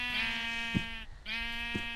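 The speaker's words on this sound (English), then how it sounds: "Brown sheep." Two nasal sheep bleats from the video game Minecraft, a wavering tone repeated about a second apart, clear and close.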